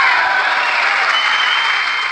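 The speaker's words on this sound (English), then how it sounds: "Republicans stood and applauded for more than a minute" Loud, dense applause from a large legislative chamber full of people standing during a State of the Union address, steady and sustained clapping with no talking.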